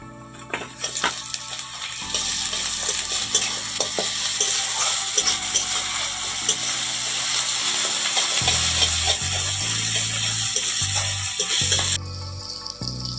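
Slit green chilies and ginger-garlic paste fry in a pan with onion, making a continuous sizzle broken by stirring scrapes, over a soft background melody.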